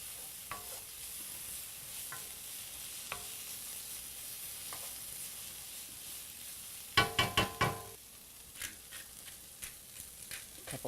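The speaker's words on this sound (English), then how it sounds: "Our garlic. I'm going to stir that around immediately." Garlic sizzles in a pan for seafood paella with a faint continuous hiss, punctuated by scattered clicks and then a burst of rapid spoon-against-pan stirring scrapes and knocks; no speech.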